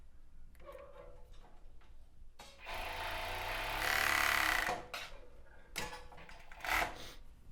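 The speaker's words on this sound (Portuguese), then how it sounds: "passar uma overlock aqui também, deixando esse meiozinho aqui, deixando essa parte da abertura sem costurar" An overlock sewing machine runs in short bursts while stitching fabric for a strapless bra-style topper, a whirring mechanical hum rising for a few seconds amid quiet handling clicks.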